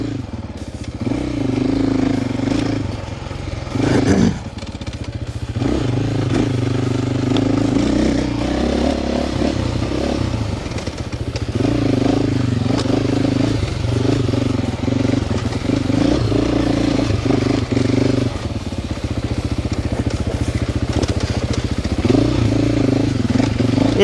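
A 2026 KTM 450 XCF-W dirt bike cruises in third gear through trees on a Texas off-road trail, its engine droning steadily and loudly with small throttle changes throughout.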